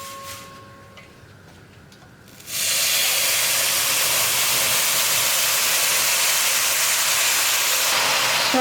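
Jaggery syrup pours into hot poha payasam cooking on medium flame. After a quiet start with faint ticking, a sudden loud hissing sizzle bursts in close and holds steady to the end.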